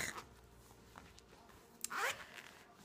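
A zipper is pulled open along a large, overstuffed handbag, giving a bright rising zip of about a quarter second after some quiet rustling, close up with no voice.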